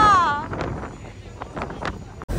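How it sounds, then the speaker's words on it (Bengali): Strong wind buffets the microphone on a fast-moving boat near Oscarsborg fortress in Norway, a loud gusty rumble that rises and falls, with a voice briefly heard at the start. "খুব হাওয়া।"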